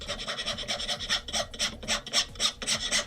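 Hand file rasping across wood while shaping a Sabine Wren helmet, steady back-and-forth strokes in a regular rhythm, close and fairly loud, with no talking.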